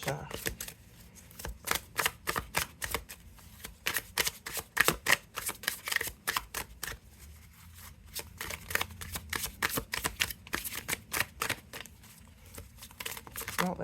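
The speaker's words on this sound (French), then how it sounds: "On va juste couper les cartes" Rapid, close crisp snaps and flutters come from a pub-style tarot deck, Le Tarot des Enfants de la Lune, being shuffled and cut by hand, repeating steadily over low background noise.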